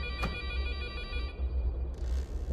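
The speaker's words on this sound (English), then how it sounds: "Oh, little phone. Let's answer the phone." Telephone ringing inside the VR horror game Chainsaw House, a steady electronic ring tone that runs for about a second and a half. Low rumbling ambience continues underneath, and a hiss rises toward the end.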